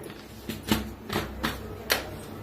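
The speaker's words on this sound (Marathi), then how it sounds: "मोहरी चांगली तडतडू देऊया" Mustard seeds splutter in hot oil in a kadhai, a few separate bright pops and crackles over a low sizzling bed, close and moderate in level.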